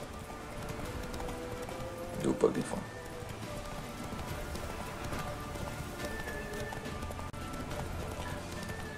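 Horse hooves gallop in The Witcher 3 Wild Hunt, a steady run of hoofbeats under game ambience with rain-like noise, while someone talks over it.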